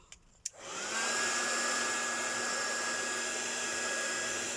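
After a couple of brief clicks, a heat tool switches on and blows with a loud, steady whir while drying distress oxide ink on a heat-embossed craft gift tag.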